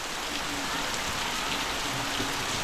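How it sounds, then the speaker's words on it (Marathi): Heavy monsoon rain in the Konkan pours down steadily, a dense constant hiss of drops hitting surfaces with no letup. "तर हे बघा सगळं पाऊस जोरदार सुरुवात झाली आहे पावसात"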